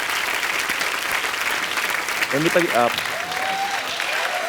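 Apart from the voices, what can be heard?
applause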